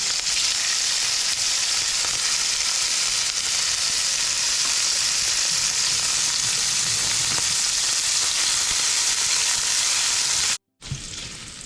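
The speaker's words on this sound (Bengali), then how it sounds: "এবার আমি ফার্স্টে চিংড়ি মাছ যেটাকে আমি নুন আর হলুদ দিয়ে ম্যারিনেট করে রেখেছিলাম সেটাকে ফার্স্টে ভেজে তুলবো।" Prawns marinated in salt and turmeric fry in hot oil, giving a loud, steady, dense sizzle that carries on without a break for about ten seconds and then cuts out briefly near the end.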